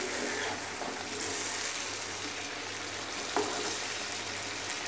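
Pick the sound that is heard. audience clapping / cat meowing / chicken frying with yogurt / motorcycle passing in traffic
chicken frying with yogurt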